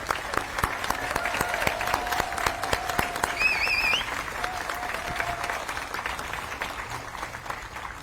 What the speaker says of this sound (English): I'd like to give a hand of applause to all 25 candidates here today